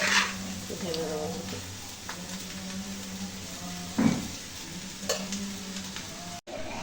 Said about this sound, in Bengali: এই যে এখন মিশ্রণ করছি।